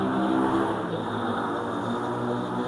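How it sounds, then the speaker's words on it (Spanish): A car passes nearby as a steady, broad engine and road roar, loud and fairly constant throughout with no talking over it. "pasó el carro"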